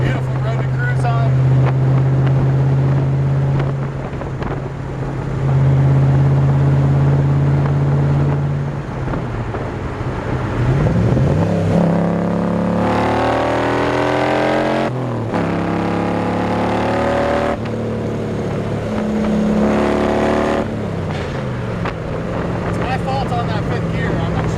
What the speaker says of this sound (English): Nice mellow tone out of the engine.